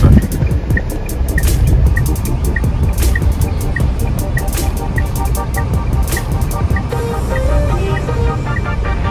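Dense city traffic at a crowded intersection in India, with a steady rumble of engines, repeated rhythmic honking and other horns beeping, sustained and close throughout.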